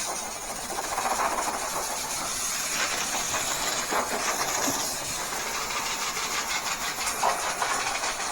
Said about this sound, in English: I forgot that this hose leaks